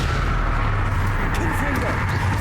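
The Incendio fire spell from Hogwarts Legacy erupts as a dense, loud rumbling roar of flame and blast, continuous throughout, with faint crackles on top.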